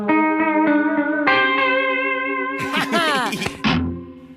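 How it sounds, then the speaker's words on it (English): A cartoon electric guitar riff played to sound fishy, drenched in distortion, echo and chorus effects: a run of sustained, reverberant notes that give way to warbling, swooping pitch bends, loud and close with no talking. "so the guitar riff would sound sort of fishy"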